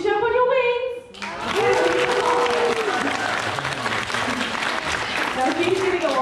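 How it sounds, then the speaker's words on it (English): Audience applause for a parrot at a bird show at Pleasurewood Hills, a dense sustained clapping that swells after a brief opening voice and continues steadily over crowd noise and an announcer's talk. "we need to give her a really big round of applause"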